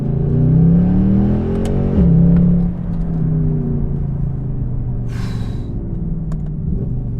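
A 517-horsepower Mercedes C63 AMG Black Series engine revs hard and loud, its roar rising and falling, then settles into a steady, throaty idle rumble.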